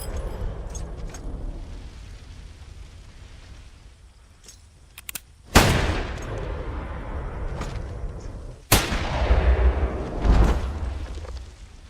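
Two sharp, loud gunshot blasts ring out a few seconds apart in a film scene, each with a long echoing decay, after a stretch of quiet ambience and faint clicks.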